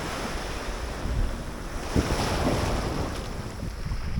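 Mediterranean Sea waves washing onto the shore near Side, Antalya, a steady loud surf wash with gusty wind buffeting the microphone, continuous and close, with no speech.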